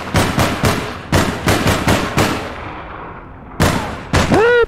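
Sniper gunfire in the APB Reloaded video game: loud, sharp shots in several rapid bursts with short gaps, then a lull and two more close blasts at the end.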